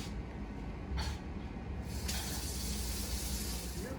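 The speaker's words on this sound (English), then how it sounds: "First of all, wash your hands." Hands are washed under a running kitchen tap, a quiet steady gush of water with brief louder splashes as the hands move through the stream.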